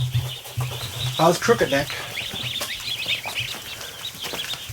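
Ducklings and goslings peep and call inside a brooder, a busy mix of small chirps and squawks close by, while a person speaks briefly over them.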